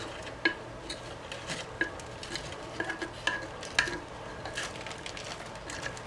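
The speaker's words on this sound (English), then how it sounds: "So I'm just going to take this little spatula tool and scrape" Repeated scraping of a small spatula tool stripping chipped epoxy and glitter off a tumbler, a series of short, sharp scratchy strokes with occasional clicks, close and moderately quiet with no talking.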